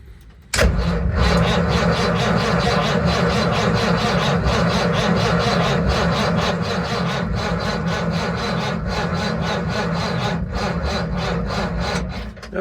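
A Mack B61 turbo diesel truck engine cranks steadily after fuel priming, a loud continuous grinding churn that starts abruptly and holds for about twelve seconds without clearly catching.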